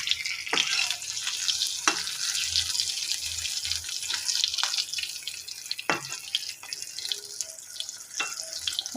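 Fish pieces frying in hot oil in a pan, a steady close crackling hiss with occasional sharp clinks as the pieces are turned over.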